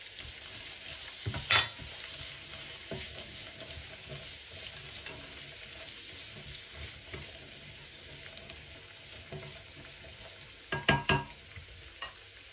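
Carrots and green peas frying in a pan for chicken fried rice, a soft continuous sizzle with occasional sharper scraping stirs, no talking.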